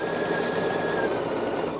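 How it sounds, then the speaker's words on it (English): A sewing machine runs steadily while stitching a quarter-inch seam, a fast even whirring close by for under two seconds. "I'm going to put my presser foot down, get that pin out of the way."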